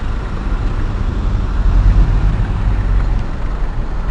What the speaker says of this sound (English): Oh, here's a hole in the traffic.